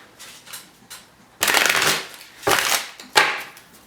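A tarot deck shuffled by hand in several quick riffling bursts, each a close, crisp papery rush, with a quieter soft shuffle before them.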